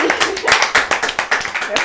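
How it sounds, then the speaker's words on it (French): A small group claps in a quick, uneven burst of sharp hand claps after a correct answer during an outdoor quiz game, with voices talking over the clapping. "on peut applaudir."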